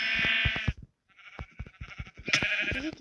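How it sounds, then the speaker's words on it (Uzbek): Sheep bleat loudly and close by, one long wavering call, a brief pause, then a second drawn-out bleat rising at the end. "Qo'ychalar."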